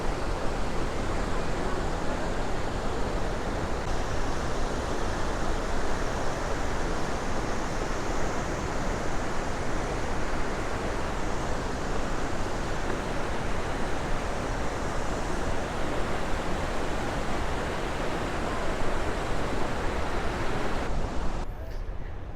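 A waterfall and river at Iguazu Falls in Argentina roar in a loud, steady, unbroken wash of noise that holds evenly for the whole stretch before easing slightly at the very end.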